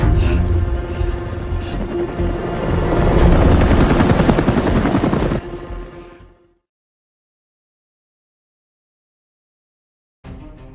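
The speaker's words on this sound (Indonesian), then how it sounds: "Setelah semua helikopter pergi" Helicopters fly over in an action film scene, their loud, steady rotor roar filling the first six seconds before cutting off into silence, with a brief burst of sound returning at the very end.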